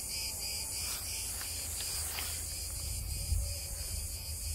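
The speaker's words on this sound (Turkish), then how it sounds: "Ağustos böceği de ötüyor." A dense, unbroken buzz of cicadas fills a garden in Izmir in August, loud and steady throughout, with faint low rustling beneath and no speech.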